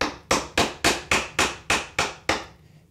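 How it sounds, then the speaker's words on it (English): Eight sharp, evenly paced mallet blows on a chisel cutting wood by hand for a tapered sliding dovetail joint, close and clear with no talk. "kind of roughing in the shape, chiseling down to my baseline"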